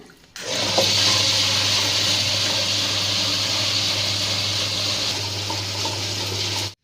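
A wet grinder churns soaked urad dal sprinkled with water for batter. The steady, loud whirring hum and wet grinding texture start abruptly, run continuously without talk, and stop at the end.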